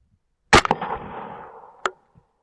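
A single sharp air rifle shot fired at a beaver while hunting, a loud close crack followed by a long fading echo, then a brief knock near the end.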